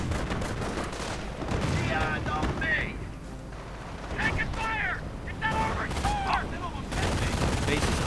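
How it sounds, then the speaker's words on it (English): Gunfire from a Schwimmwagen amphibious jeep in a World War II real-time strategy game match, dense bursts of shots and battle noise filling the mix alongside talk. "And the Schwimmwagen is still firing"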